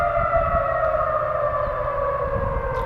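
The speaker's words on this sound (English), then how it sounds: "But yeah, sirens are going off." A tornado civil defense siren sounds loud and continuous during a weekly outdoor test, holding a steady wailing tone for the whole stretch, with low rumbling wind noise underneath.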